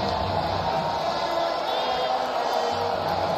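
A hostile stadium crowd at a college football game between Texas and Rice roars as a dense, steady wash of noise, loud and continuous throughout with no distinct peaks.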